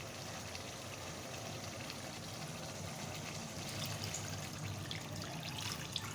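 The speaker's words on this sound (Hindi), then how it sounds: "अब हम इसमें ऐड करेंगे पानी।" Water pours steadily into a pot of cooking mutton for a mutton kunna dish, a soft continuous trickle and splash heard faintly and alone.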